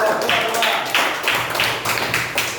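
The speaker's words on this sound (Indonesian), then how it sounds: "Tepuk tangan dulu." Classroom audience clapping after a group presentation in an Indonesian class, a steady wash of many hands applauding close by for the whole moment, fairly loud and continuous.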